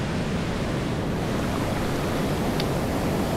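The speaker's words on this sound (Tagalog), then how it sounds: "Magkapi sa tabing dagat at pagmasdan ang mga alon." Steady, broad wash of ocean surf rolling onto the shore, continuous and fairly loud, with wind noise mixed in and no voices.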